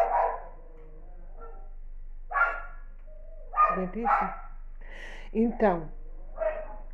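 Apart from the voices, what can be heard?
neighbour's dog barking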